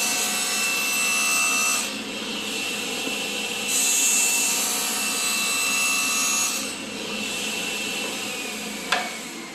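A power saw cuts a miter along the edge of a large wood panel, a sustained close grinding whine that dips briefly and resumes, ending with a sharp knock.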